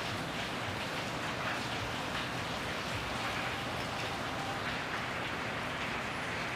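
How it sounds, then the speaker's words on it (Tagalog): Steady, dense downpour of heavy rain drumming continuously on surfaces, loud and close with no letup throughout. "Ah, malakas ang ulan."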